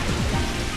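Steady rain from the Rain Dance move in the Pokemon XD video game, a continuous hiss of falling drops with low rumbling texture, fairly loud and unbroken, with no voices.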